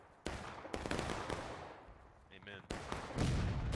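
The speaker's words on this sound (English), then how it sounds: "And an artillery shot, it looks like, too" Heavy artillery blasts roar through a Civil War-era multiplayer battle game, with broad booming bursts at the start and again near the end over a constant din of combat, while a voice talks briefly in the middle.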